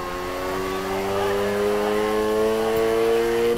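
A car drifts in the Need for Speed Heat racing game, its engine revving steadily and climbing in pitch. The loud, sustained roar runs without a break across the whole stretch, with no voices over it.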